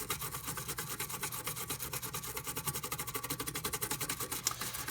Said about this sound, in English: So I'm gonna clean the repair site.